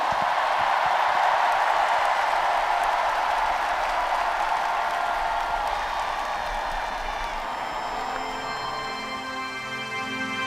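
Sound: audience applause for the IPYG card section team

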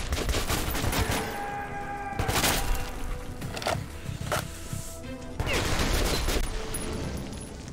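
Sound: gunfire in the video game Metro 2033 Redux

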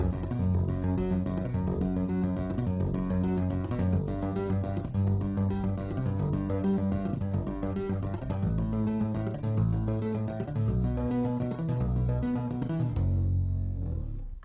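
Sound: bass guitar tapping solo of add 11 chords

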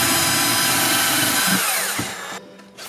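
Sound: WORX SwitchDriver drill driving a screw into wood

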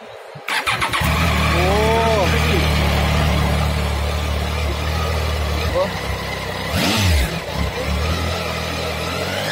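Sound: adventure motorcycle engine revving

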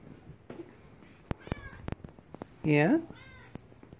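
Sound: cat meowing

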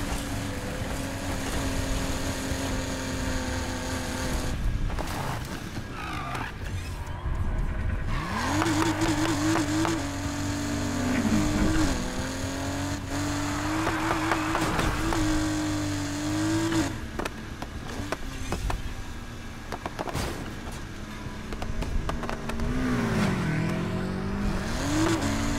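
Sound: BMW M3 E30 engine and tire squeal, Need for Speed Heat video game

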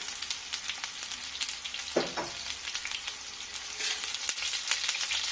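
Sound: mustard seeds spluttering in hot oil

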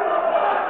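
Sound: wrestling crowd in Van Nuys cheering and booing

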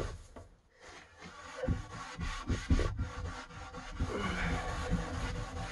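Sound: rubbing wooden cabinet along the grain

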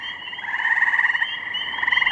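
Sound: gray tree frogs trilling

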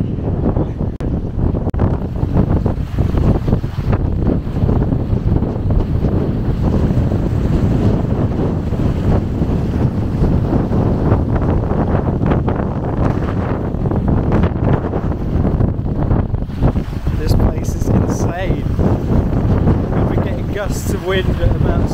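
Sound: strong wind at about 60 km/h at a hillside campsite

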